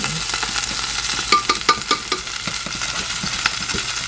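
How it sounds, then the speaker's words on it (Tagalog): Shrimp fry in a hot pan with a continuous close sizzle, broken by several sharp clacks and stirring knocks from a utensil against the pan. "Ang shrimp, napakadali nito guys maluto."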